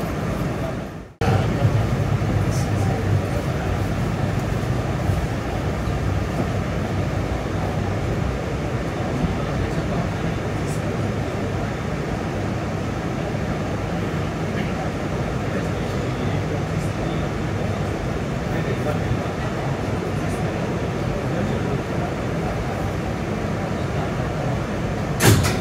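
A brand-new R211S car on the Staten Island Railway, running as a Tottenville-bound local, hums and rumbles steadily from inside for the whole ride after a brief thump at the start.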